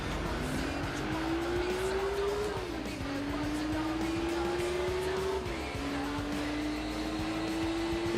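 Racing cars in Gran Turismo 4, among them a Cizeta and a BMW, with one engine's pitch climbing steadily and dropping at two gear shifts, loud and continuous over a dense roar.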